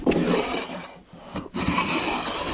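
A wood piece is fed onto a belt sander, producing a loud, close abrasive rasp that briefly drops away near the middle before resuming steadily.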